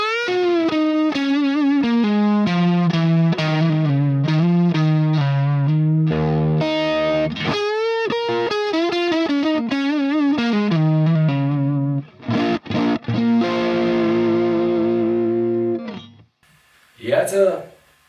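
Electric guitar played through a fuzz pedal into an amp, guitar volume backed off to mid setting for a slightly overdriven tone; a continuous run of bluesy notes and chords, loud and close, with brief pauses near the end.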